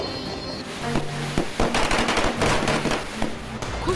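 Firecrackers burst during Diwali celebrations in India, a rapid irregular volley of sharp cracks and pops, loud and close, continuing for several seconds with background noise.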